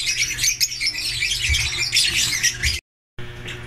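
A sick bird squawks loudly and repeatedly while being caught in a flight cage, harsh close calls in quick succession, broken by a brief silence before the squawking resumes.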